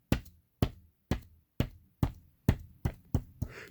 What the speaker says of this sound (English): And footsteps.